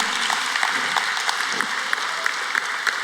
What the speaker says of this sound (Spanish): si vas a aplaudirle al Señor, apláudele